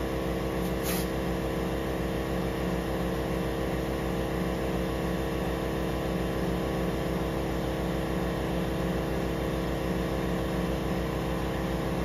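Compressed air hisses steadily into a go-kart tire fitted with an inner tube, a constant droning rush from a nearby compressor that holds without a break for twelve seconds.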